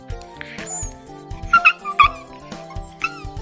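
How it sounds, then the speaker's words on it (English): A Shiba Inu gives a run of high, yelping whines and squeaky yips, loud and close, with some pitch slides. Quiet gaps fall between the bursts. "Shibas don't usually bark, but they are vocal in their own ways."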